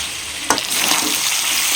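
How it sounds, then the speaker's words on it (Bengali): Fried chicken pieces sizzle in curry masala over a medium flame, a dense frying hiss that swells after a sharp knock of the utensil, then continues steadily up close. "চিকেনগুলো দিয়ে আরও মিডিয়াম ফ্লেমে 2-3 মিনিট ভেজে নেব মশলার মধ্যে।"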